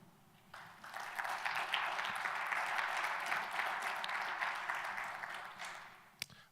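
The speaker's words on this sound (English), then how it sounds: "Let's give Brad another round of applause." Applause after a talk on market realities: clapping starts abruptly, holds as a dense, even patter from a modest audience, then thins out, with one sharp knock near the end.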